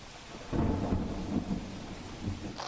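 Heavy rain pours steadily while low thunder rumbles through it, rising and fading over a few seconds.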